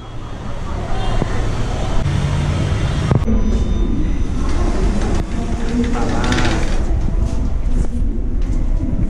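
An Indian Railways Howrah–Malda Town Intercity Express runs steadily, heard from inside an AC chair car: a constant loud rumble of wheels and carriage with clattering, while faint voices come and go in the background.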